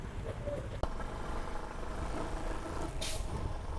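A bus idles at Port Klang bus station with a low, steady engine rumble, a sharp thump early on and a short burst of air-brake hiss near the end, with no talking.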